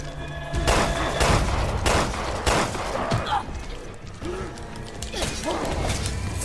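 Mechanical clicks and clacks of a gun being reloaded in the video game Resident Evil Revelations 2, several sharp close hits mixed with game ambience and a few firing bursts.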